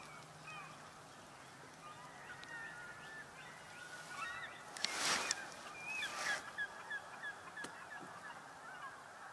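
A swan calls outdoors with a few honking notes at a distance, rising over a quiet background of other birdsong, faint at first and then a short cluster of louder calls.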